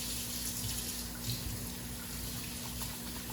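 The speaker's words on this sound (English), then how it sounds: "I gotta wash my hands now." A kitchen tap runs steadily for hand washing, a constant even rush of water that stays close and moderately loud throughout, with no talk over it.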